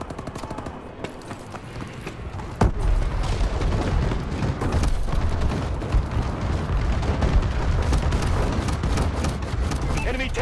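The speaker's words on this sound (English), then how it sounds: "Enemy bombing run overhead." Explosions from an enemy bombing run in the multiplayer shooter Call of Duty Advanced Warfare, a loud sudden blast followed by a sustained rumbling barrage of impacts and gunfire, with game announcer voice lines over it.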